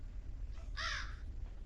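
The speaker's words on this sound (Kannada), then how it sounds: "ಮುದುಕಿ ಈ ಕಾಗೆಗೆ ಕಾಳು ಹಾಕ್ಬಿಟ್ರೆ ಅದು ಬರುತ್ತೆ." A single crow caw sounds in the Granny horror video game, one short harsh call standing alone over a quiet low background hum.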